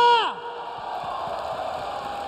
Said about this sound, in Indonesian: Tepuk tangan untuk Andi Cobra!